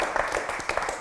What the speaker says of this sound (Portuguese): Dá uma salva de palmas para o Edivaldo lá.